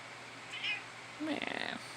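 A house cat meows twice indoors, a short high call followed by a longer, wavering meow, fairly close and clear against a quiet room.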